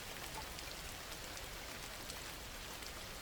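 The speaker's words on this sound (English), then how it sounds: "The rain beats against the windows with relentless fury." Heavy rain falls steadily against window glass, a dense, even patter with no pauses that stays constant throughout, with no voices.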